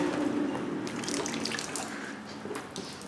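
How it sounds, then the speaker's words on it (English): A car windshield washer pump squirting fluid, heard as a steady close hiss and spray of liquid with faint splashing, continuous for a few seconds, no talking. "Squirt the windows, Evan."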